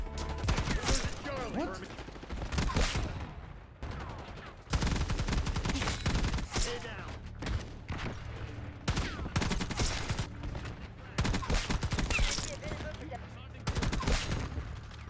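Bursts of automatic fire from an STG-44 assault rifle in Black Ops 6, rapid loud volleys in several strings separated by brief pauses, with game voice callouts and a player talking between and over the shooting.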